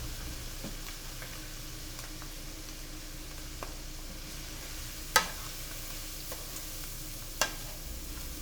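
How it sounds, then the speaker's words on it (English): Arborio rice sizzling gently in a pan with onions and mushrooms as it is stirred in, a soft continuous hiss with two sharp clicks of a utensil against the pan. "Now add your arborio rice to the pan, and try to incorporate it well with the onions and mushrooms."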